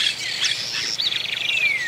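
Small birds chirping around nests inside hollow-topped light poles in Esperanza, Santa Fe, Argentina: rapid high twittering and sweeping calls, close and fairly loud, continuing throughout.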